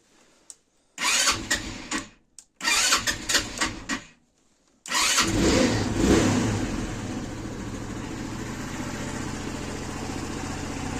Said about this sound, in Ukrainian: Зараз вам покажу, як працює двигун.